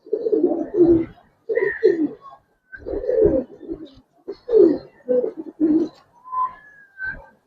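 Giribaz pigeons coo in repeated low throaty bursts close by, with short pauses between calls and a faint higher chirp near the end.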